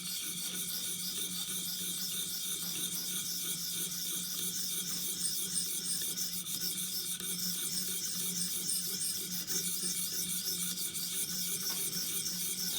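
A Benchmade Mini Adamas blade is worked across a sharpening stone at the heel, making a steady, continuous close-up scraping rasp that repeats evenly, with no voices.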